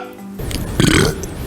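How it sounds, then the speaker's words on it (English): A man lets out a loud, close, drawn-out burp that rumbles for about a second, with no talking around it. "I just burped again."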